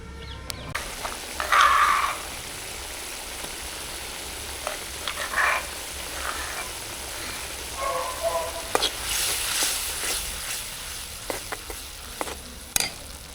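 Sizzling oil crackles steadily as pounded chickpeas are tipped into a hot tempering in a kadai, with scattered clinks and scraping of a spoon against metal.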